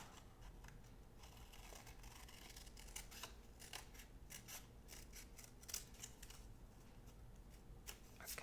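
Scissors snipping paper for a planner spread, a series of quiet crisp cuts and rustles close by at low level, with no voices.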